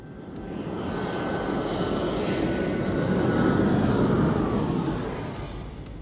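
A passenger airplane in flight, heard from the cabin as a steady, full-bodied engine roar that swells slightly toward the middle and stays continuous throughout, with no voices.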